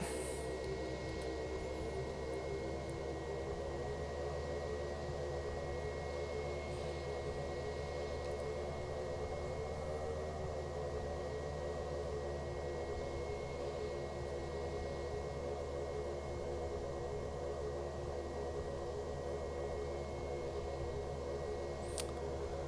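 A Carenado TBM 850 turboprop taxis in X-Plane 11, a steady, faint engine hum and drone with a thin constant whine, unchanging for over twenty seconds and free of speech.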